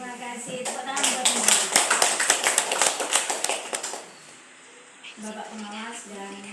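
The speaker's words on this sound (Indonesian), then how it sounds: "Tepuk tangan buat" An audience at a regional early-childhood teachers' association meeting claps in a quick, rhythmic burst for about three seconds, with a voice calling out before and after.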